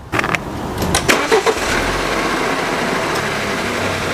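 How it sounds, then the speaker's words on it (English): A BMW N20 car engine starts up after an oil change, with a few sharp clicks and bursts of cranking, then a quick catch that settles into a steady, even idle close by. "Start the engine and see if we don't have any leaks."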